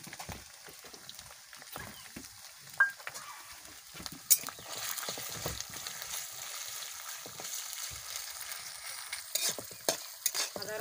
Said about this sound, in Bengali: আদা রসুন বাটা আমি একদম ভেজে নিয়েছি।